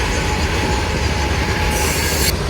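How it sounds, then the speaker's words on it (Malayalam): A fully loaded diesel goods train rolls past at Suravali, Goa, as a loud, continuous close rumble of wagons with wheel squeal and steady track noise, no one speaking. "അടുത്ത ഡീസൽ വെച്ചുള്ള ഗുഡ്സ് ട്രെയിൻ പോകുന്നു."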